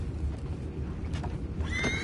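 A horse whinnies near the end over a steady low rumble, with a faint thud just before it, in the video game Red Dead Redemption 2.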